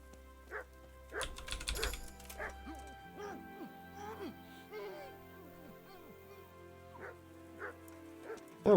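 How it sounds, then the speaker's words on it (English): Dog in Kingdom Come: Deliverance giving a series of short yips and whimpering barks at an irregular pace, moderately close, with a brief clatter early on and faint background voice. "Hi, doggy."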